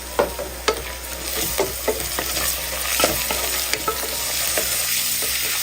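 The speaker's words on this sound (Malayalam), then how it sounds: "മല്ലിയില ഇതുപോലെ നമ്മൾ വഴറ്റിയെടുത്താൽ മാത്രമേ നല്ല ടേസ്റ്റ് ഉണ്ടാവുള്ളൂ." Chopped coriander leaves with ginger and garlic sauté in a pan, sizzling steadily as a spoon stirs and scrapes in repeated sharp strokes, close by with no voices.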